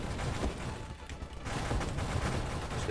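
Full-auto weapon fire in the space shooter Nova Drift, a steady dense stream of rapid shots that briefly thins before resuming, loud and continuous with no talk.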